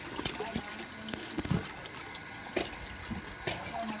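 Steady rush of water flowing and gurgling through a drain pipe, close and continuous, with occasional knocks and splashes on top.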